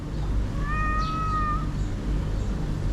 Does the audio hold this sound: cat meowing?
yes